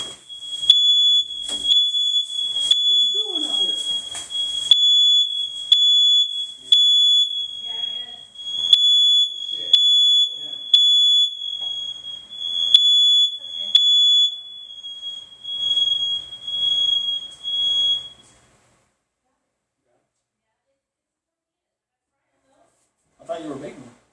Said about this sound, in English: At least my smoke detectors work.